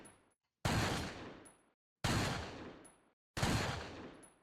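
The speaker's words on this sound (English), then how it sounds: "the same 2 gunshots going off right now" Three loud, sharp gunshots from a Resident Evil 4 dating sim game, each a sudden blast with a long decaying tail, spaced about one and a half seconds apart with silence between.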